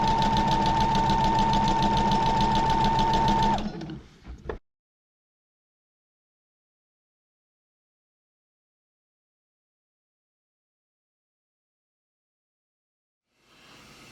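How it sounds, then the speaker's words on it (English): A sewing machine runs a continuous stay stitch along the upper edge of a wrap coat, a loud steady whirring hum for about four seconds that then stops, leaving silence. "You could just go ahead and start sewing."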